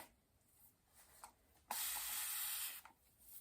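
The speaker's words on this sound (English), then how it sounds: "It's a spray bottle that does the mist." After a quiet moment, a single close spray of distilled water mist from a spray bottle hisses for about a second, followed by a few faint rustles.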